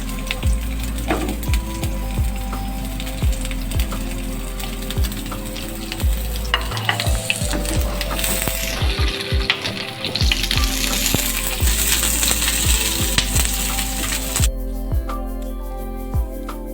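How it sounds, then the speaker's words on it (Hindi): Chopped onions fry in hot oil in a pan for a steam-roasted mutton leg dish, a loud, steady sizzle close by with occasional stirring scrapes and clinks throughout, with no talking. "ऑयल गर्म हो गया, सबसे पहले मैं इसमें प्याज डालूँगी और इसको हम लाइट सा फ्राई करेंगे।"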